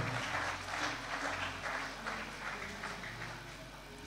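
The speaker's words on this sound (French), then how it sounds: "Acclamons le Seigneur. Tobete likolo maboko." Church congregation clapping together in steady, sustained applause that fills the room, with faint voices underneath.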